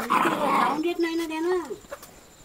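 A dog at a home in a tribal village lets out a drawn-out, whining growl-bark, close and fairly loud, following a short burst of human talk.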